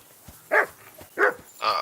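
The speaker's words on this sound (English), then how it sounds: "My dog's freaking out." Dog barking in the Kingdom Come Deliverance II video game: three close, loud barks at roughly even intervals, the last one drawn out.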